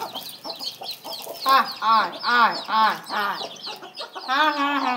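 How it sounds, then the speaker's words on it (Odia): Domestic chickens and their chicks cluck close by in repeated, rhythmic bursts that keep going throughout. "ସାଙ୍ଗମାନେ ଦେଖ ଆମର କୁକୁଡ଼ା।"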